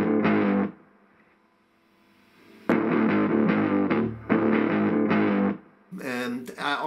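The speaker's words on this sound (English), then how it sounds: "the distorted rhythm lick" An electric guitar plays a distorted rhythm lick through a tube preamp in short, chunky chord bursts, with a pause of near silence and then a louder sustained run of chords near the listener.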